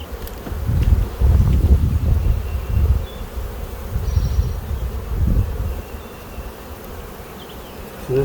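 Honeybees buzz loudly on a hive frame during a colony split, a dense close-up drone that rises and falls in waves, with a few individual bees whining past.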